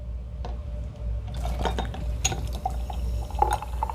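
Sparkling peach water poured into a glass, a continuous liquid stream with light fizzing and a few clinks and splashes throughout, close and fairly clear, with no talking.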